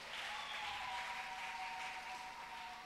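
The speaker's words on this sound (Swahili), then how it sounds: "Shangwe makofi na vigelegele unapokuja tafadhali." Steady applause and cheering from a church choir audience in Msasani, a broad continuous wash of clapping with a high sustained tone running through it, no voices on top.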